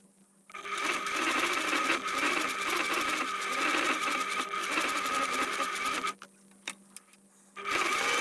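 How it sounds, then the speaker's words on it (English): A sewing machine stitches fabric seams for a face covering. It runs as a steady, loud mechanical whir for several seconds, stops with a few short starts, then resumes, with no talk. "I'll sew along both these sewn lines"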